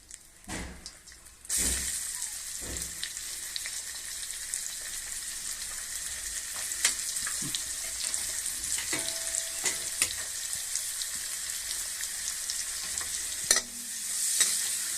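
Steady frying sizzle of chopped onions in a pan after an initial clatter, with occasional scraping and stirring knocks throughout, no talking.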